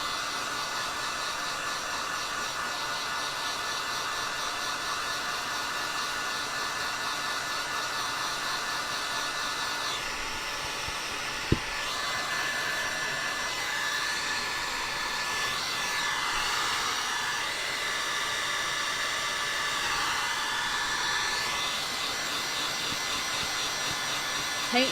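A hair dryer runs continuously, blowing on freshly painted jars for a patriotic craft project, a steady loud whooshing roar whose tone shifts slightly as it is moved around.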